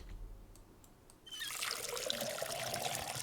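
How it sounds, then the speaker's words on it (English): Water trickles and pours from a watering can onto a plant in the video game Schedule I, starting after a quiet second and continuing as a steady close splashing stream. "Watering can."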